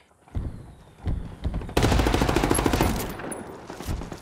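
Bursts of automatic gunfire and rapid shots in the tactical shooter game Ghost Recon Wildlands, sporadic at first, then a sustained, dense volley that tapers off, loud and close.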